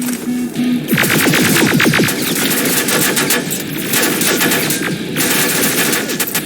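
A turret in Terminator Resistance fires long, rapid automatic bursts, loud and close, with dense rattling shots that pause briefly and then resume.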